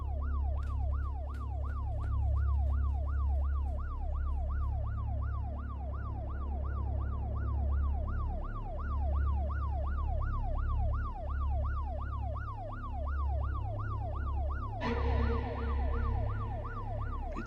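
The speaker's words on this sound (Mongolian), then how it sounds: "Хэсэг чимээгүй байсны дараа цагдаагийн машин сонсогдоход" Police car siren wailing in a fast, repeating up-down sweep over a low engine rumble, loud and close throughout, shifting to a sharper, brighter tone near the end, with no speech.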